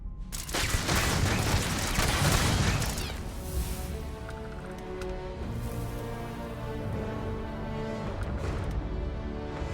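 Rapid turret gunfire in Starfield, a loud dense volley of shots for the first few seconds that drops away into a lingering ringing tail and quieter background tones.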